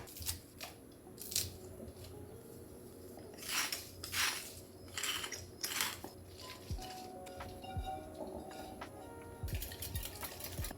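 A whisk scrapes and clinks against a bowl as eggs and spinach are beaten together, giving repeated rhythmic metallic strokes and sloshing over a steady background hum, with no talking.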